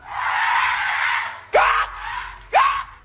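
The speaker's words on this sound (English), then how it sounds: "the man started screaming and ran away" A man screams in fright, one long sustained scream followed by two shorter rising shrieks, loud and close, with no talk.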